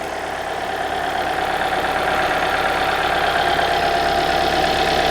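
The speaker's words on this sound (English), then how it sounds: "So the engine is running." A Hyundai Sonata engine idles rough, its steady mechanical drone running continuously and close, with no talking over it.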